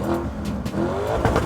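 Lamborghini Urus engine revving up and down, a loud close-up growl with rising and falling pitch over a short burst, with no talk.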